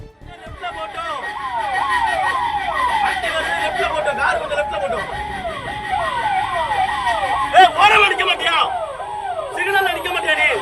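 An approaching ambulance siren wailing in rapid repeating rising and falling sweeps, loud and steady throughout, with people talking over it.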